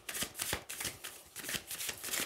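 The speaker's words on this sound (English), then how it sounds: "Yes, I shuffle my cards like all the time" Tarot cards being shuffled by hand, a run of quick riffling bursts repeating in a steady rhythm, close and fairly quiet with no talk.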